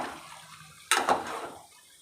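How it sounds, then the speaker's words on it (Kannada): Water rinsed from a mixer jar is poured into a pot of chicken sambar, one short splashing pour that swells and fades over about a second, fairly quiet and alone. "ನಾನು ಸ್ವಲ್ಪ ನೀರು ಹಾಕ್ತೀನಿ ಮಿಕ್ಸಿ ತೊಳೆದಿರೋ ನೀರನ್ನ ಹಾಕ್ಕೊತೀನಿ"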